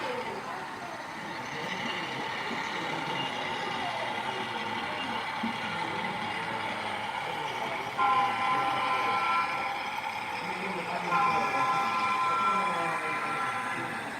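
A model train runs on a model railroad layout, a steady whirring and clicking rumble with a few brief high tones, while people talk faintly in the background.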